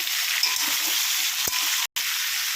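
Drumsticks and jackfruit seeds fry in oil with pumpkin and potato, making a steady close hiss of sizzling with soft stirring knocks, one sharp thump and a brief cut in the sound near the end.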